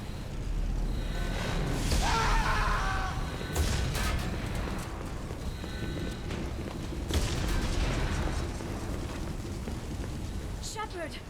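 Deep booming cannon blasts and explosions from Mass Effect sound repeatedly amid battle noise, with voices talking over the action.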